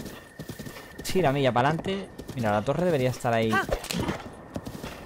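Hooves clip-clop steadily at a gallop in Zelda: Breath of the Wild, under a voice that talks over most of the stretch.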